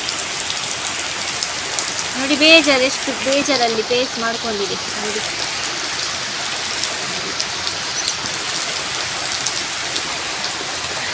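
Heavy rain falls outside a house in a constant hiss, while someone talks over it for a few seconds.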